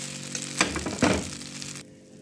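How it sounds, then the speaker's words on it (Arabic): Qatayef pastries frying in ghee or butter in a pan, giving a steady close sizzle with a couple of louder crackling bursts before the sound drops away near the end. "أنا رح أقليها بهاي الطريقة لوقت ما تتحمص وتتأمر"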